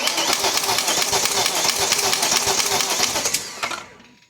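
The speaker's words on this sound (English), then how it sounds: "I guess just crank it for a couple seconds and we'll see if it fills with oil and changes the sound" A BMW E39 V8 cranking over with a dry timing chain tensioner, a dense, loud, fast clattering whir that runs steadily for several seconds and then stops abruptly.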